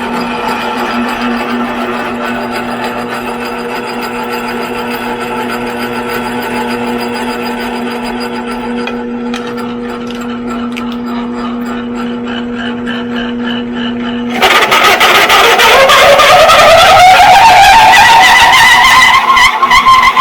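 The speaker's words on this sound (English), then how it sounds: "2 1/8 for a doorknob hole, and we'll get this drilled." A steady mechanical drone runs for a while, then a louder drilling whine rises in pitch as a 2 1/8-inch bit bites into wood for a doorknob hole, close and continuous.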